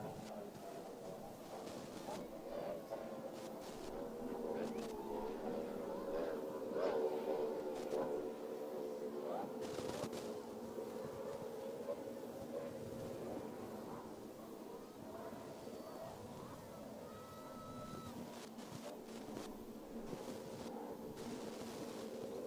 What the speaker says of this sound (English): So these Mercury 300 racing engines are working absolutely overtime.